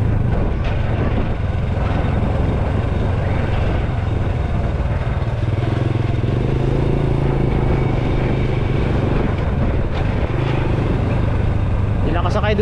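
A motorcycle carrying two riders drones steadily nearby on a mountain road in the Sierra Madre, its pitch shifting as it passes, with voices talking over the rumble.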